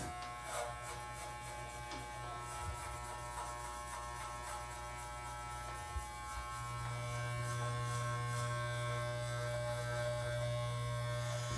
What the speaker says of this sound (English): Using the inverted clipper technique, touch up around the ears and the back of the neck